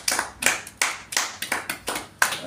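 A church congregation claps in unison, a steady series of sharp applause bursts about twice per second, fairly loud and close, with no talking over it.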